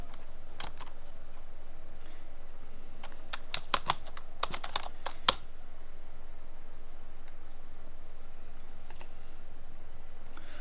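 Keys clatter on a computer keyboard in a short burst as a search term is typed, sharp near clicks clustered around the middle against a steady faint background hiss, then a couple of isolated taps after a quiet stretch.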